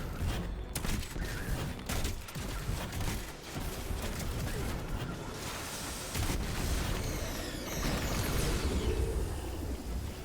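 Grenade launcher fire in Destiny 2 sounds as a dense, continuous barrage of booming blasts and crackling impacts, loud and chaotic throughout with no clear gaps.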